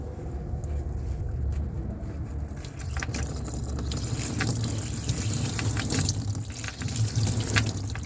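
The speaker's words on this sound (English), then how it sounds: "Water in the oil pan, folks." Water pours from the drained oil pan of a flooded Peterbilt truck in a steady, splashing stream that grows fuller and louder after a few seconds, running continuously up close.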